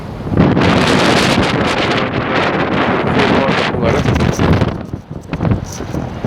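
Strong wind buffets the microphone in loud, rough gusts, a dense roaring rush that dips briefly near the end before surging again.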